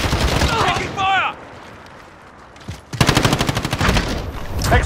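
Bursts of automatic gunfire in Call of Duty: Modern Warfare during a hardpoint match, a loud rapid rattle after a quieter stretch, with shouted voices and game chatter in the opening seconds.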